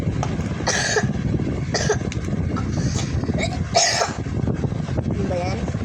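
Repeated coughing after eating a biscuit, several harsh bursts spread across the stretch, mixed with talk and background noise.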